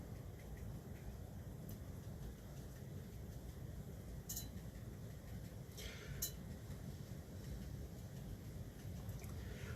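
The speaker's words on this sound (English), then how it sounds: "Y'all can probably hear the rain in the background in this video." Heavy rain falling outside, a steady dense broadband hiss that runs unbroken throughout, fairly faint and even, with a few brief faint clicks on top and no talk.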